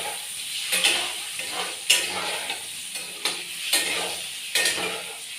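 Eggs fry in hot oil seasoned with turmeric and salt, a steady soft sizzle broken by regular scraping stirs of a spatula against the pan, close and moderately quiet.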